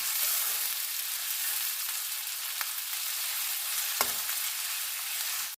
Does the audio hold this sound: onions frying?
yes